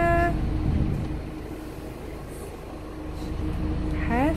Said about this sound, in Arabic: انظروا حافلة اخرى في الخارج.